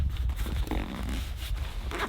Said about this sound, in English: Just about zips up.